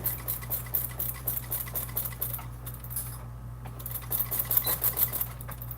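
A sewing machine stitches a bag seam in a steady rapid run of needle strokes, close and continuous, with a low motor hum underneath and no talking.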